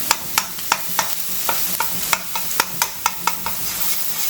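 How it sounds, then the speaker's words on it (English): A tablespoon of ginger garlic paste with spices sautés in a pan for a spicy roast squid dish, with a continuous sizzle under brisk, regular spatula scrapes and taps, about four a second. "This is some ginger garlic paste, about 1 tablespoon. So just saute everything till the"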